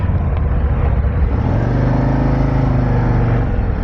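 A 2024 Harley-Davidson Street Glide motorcycle engine runs steadily close by, a loud continuous low rumble with a deep throbbing idle that holds level for the whole stretch, with no talking.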